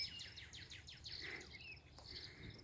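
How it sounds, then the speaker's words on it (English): Birds chirp and call repeatedly along the Rouge River in Rouge Valley Park. The faint, quick call series sits over a soft outdoor hum. "So beautiful birds."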